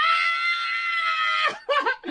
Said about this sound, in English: That scream, dude.